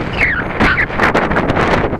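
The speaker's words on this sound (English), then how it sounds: "The wind is now so hard I can't put my hat on." Strong wind buffets the microphone on a blustery day at a model glider flying session, making loud, continuous rumbling gusts with no talking.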